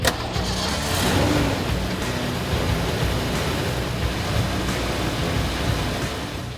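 1979–1993 Mustang engine idling with a heavy-duty clutch fan fitted, a steady broad rushing drone with low engine rumble, close and constant after a brief start-up burst.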